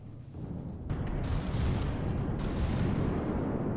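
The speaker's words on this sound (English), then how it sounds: "Look at that flak shooting down the Gimle's crams." Flak guns in the naval combat game From the Depths fire at incoming cram shells, making a dense, continuous roar of rapid booms and bursts that swells louder after the first second.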